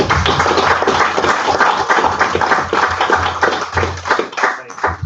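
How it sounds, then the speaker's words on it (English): A loud, sustained round of crowd applause, dense clapping from many hands that stays strong throughout and thins slightly near the end, at a community board meeting. "we need to give her a big hand and a round of applause"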